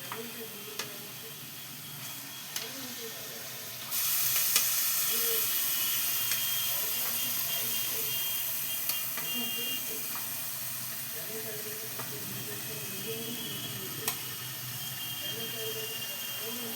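Chicken pieces dropped one by one into hot oil with frying spices, giving a steady broad sizzle and hiss that grows louder partway through, with soft stirring and scraping and quiet talk running underneath.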